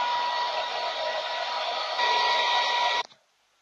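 Hand-held hair dryer blowing on hair after cream is applied, a steady loud whirring hum that sounds close by. It shifts slightly in pitch partway through, then cuts off abruptly near the end.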